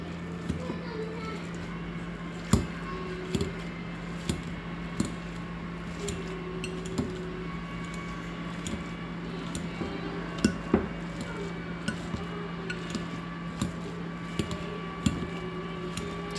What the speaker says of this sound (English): I'm going to use a potato masher to mash it up